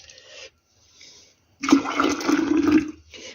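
Homemade tomato juice pours into glass jars, a close, gushing liquid stream that runs for about a second and a half after a few shorter splashes and trickles.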